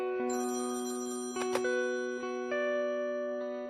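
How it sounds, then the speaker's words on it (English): Electronic telephone ring in a tonal chime pattern, sustained ringing notes with a couple of brief louder accents, moderately loud and alone with no talking. "Every time the phone would ring, he would jump up."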